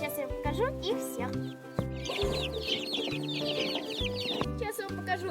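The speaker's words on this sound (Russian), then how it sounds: "Еще цыплята. Сейчас я покажу их всех." Chickens cluck around a home yard where chicks and other domestic fowl are kept, with repeated close clucks and calls over continuous background sound.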